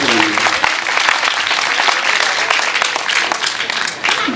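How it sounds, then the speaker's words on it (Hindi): Loud, dense audience applause and clapping fills the whole stretch at a Hindi religious discourse gathering, steady and sustained with a faint voice briefly underneath. "एक बार जोरदार ताली पीछे तक बजाकर भाई देवेंद्र को आश्वस्त कीजिए"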